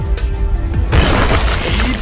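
A sudden explosive burst from an octane blast attack in a fantasy battle, a dense roaring impact that swells at about one second and rumbles on loudly to the end, layered over earlier low booms and crackling debris.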